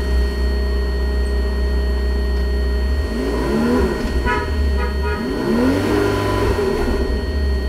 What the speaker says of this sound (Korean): 현재 아크라포빅 배기가 되어 있기 때문에 엔진 소리가 우렁차입니다.